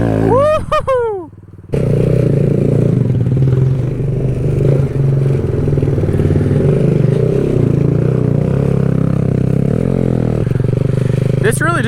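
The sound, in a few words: Kawasaki Z125 motorcycle on a trail ride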